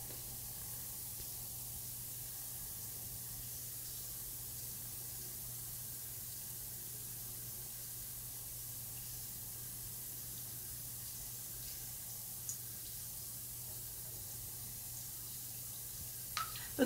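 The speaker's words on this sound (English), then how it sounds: "a sea breeze bath fizzer." A sea breeze bath fizzer dissolves in bath water, giving a faint, steady fizzing hiss that continues alone and close, with a couple of tiny knocks near the end.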